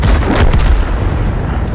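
A heavy tank cannon shot and direct-hit impact in World of Tanks, Object 907: a loud deep boom up front with a rumbling tail that sustains at high level to the end.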